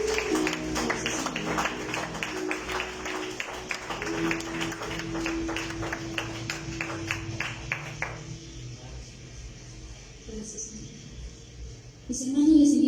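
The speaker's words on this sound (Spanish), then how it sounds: "denle otro fuerte aplauso." A church congregation at a Thursday general service applauds, a dense patter of clapping that fades out after about eight seconds, followed by a few faint sounds and then a voice starting to speak.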